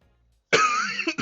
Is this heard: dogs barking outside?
no